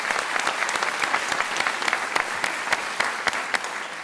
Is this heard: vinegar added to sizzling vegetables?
no